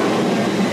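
A train pulls into a London station, giving a steady rumbling, rolling rail noise with no gaps, close by and moderately loud for under a second, with no voices.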